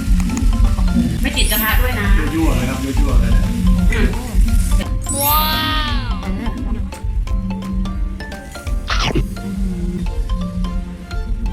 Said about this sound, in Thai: สโลแกนของ กระทะบาร์บีคิวอันนี้ก็คือย่างเร็วร้อนไวสุขทันใจ